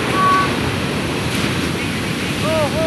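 Large sea waves break and roar around small boats crossing rough water, a loud, continuous wash with wind buffeting the microphone.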